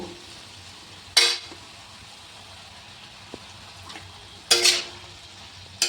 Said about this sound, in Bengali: এখন আমি এটাতে একটু, বেশি না, একটু জল দিয়ে দেব